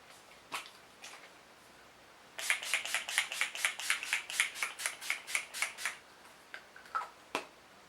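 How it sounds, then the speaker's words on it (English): A quick, evenly paced run of about a dozen spritzes of Urban Decay All Nighter makeup setting spray, close up, with a few single spritzes before and after. "Today I'm going to be using the Urban Decay All Nighter Cherry Scented Makeup Setting Spray"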